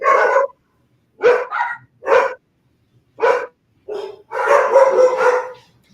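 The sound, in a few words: dogs barking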